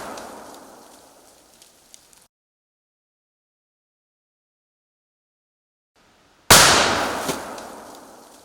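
A Springfield Armory Model 1871 rolling block rifle fires once, a loud sharp crack with a long echoing tail as the shot blows up a jug, after the fading tail of an earlier blast and a stretch of silence.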